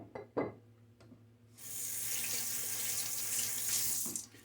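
Water pours from a tap into a basin for rinsing during a wet shave, a loud steady gush starting after a couple of soft knocks and running for a few seconds before it stops.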